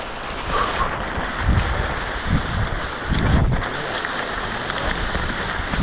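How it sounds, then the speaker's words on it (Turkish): Steady Amazon rain hisses and patters on a surface, with gusts of wind buffeting the microphone and low rumbling swells. "Yağmur durmuyor."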